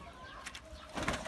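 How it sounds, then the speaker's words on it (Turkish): Pigeons coo and stir as they are placed into a flight coop, brief soft coos and rustling close by, ending in a louder burst of bird sound and movement. "uçuracağımız güvercinleri kümesimize alıyoruz Ali ile."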